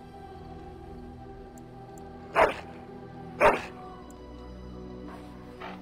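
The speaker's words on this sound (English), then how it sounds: "the dog shall have his bath after supper" A dog barks in the video game Dragon Age: Origins, two loud, close barks about a second apart, then a fainter yip, over a steady low ambient hum.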